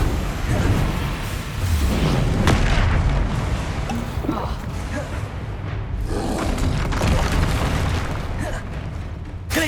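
Depulso force spells strike amid a Hogwarts Legacy spell duel, a steady run of loud booms and bursting impacts layered with other combat blasts, thick and continuous with a few sharper cracks along the way.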